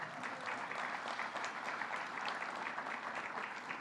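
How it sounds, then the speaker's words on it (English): Audience applause in a hall during a governor's economic development announcement, a continuous, even wash of many hands clapping, heard faintly and at a distance. "Give yourself a round of applause."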